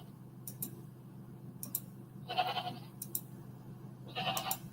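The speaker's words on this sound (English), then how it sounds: "She's calling out the neighbour goats." A goat in heat bleats out to neighbouring goats, two short wavering calls at moderate distance over a low steady hum and occasional clicks.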